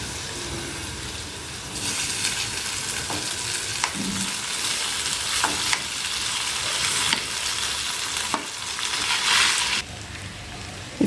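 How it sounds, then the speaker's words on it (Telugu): Cooked vermicelli gets stirred into a sizzling mango pulihora mix in a pan: a steady frying hiss with bursts of scraping and crunchy stirring strokes from a spatula, heard up close with no talking. "సేమియా వేసేసిన తర్వాత ఒకసారి ఇదంతా కలుపుకుందాము"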